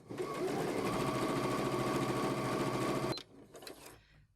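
A sewing machine stitches quilting fabric, running steadily and loud for about three seconds, then stopping; a few faint handling clicks follow.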